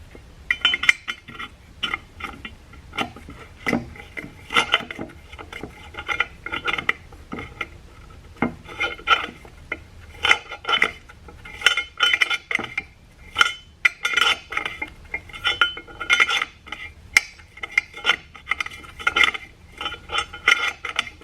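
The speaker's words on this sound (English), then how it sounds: "Take our deburring tool." A deburring tool scrapes and clinks in quick, uneven metallic bursts against the bore of a 68RFE transmission solenoid switch valve, close and continuous with no talk.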